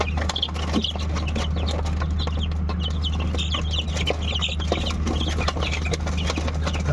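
Chicks and chickens cheep and cluck in quick, overlapping bursts while a young chick with an injured leg is rescued, over a steady low mains hum that runs the whole time.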